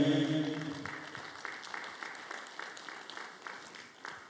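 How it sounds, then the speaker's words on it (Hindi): Theatre audience applauding at a stage play presentation during a film festival event, the clapping building after a brief voice at the start and continuing as a steady, moderately distant patter with occasional sharper claps. "जोरदार तालियों के बीच में"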